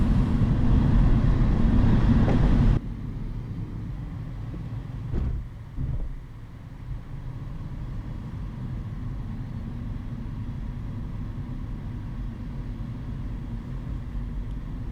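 A white Renault Zoe electric rental car drives with a steady low road rumble and tire noise, louder for the first few seconds and then quieter and even, with no talking.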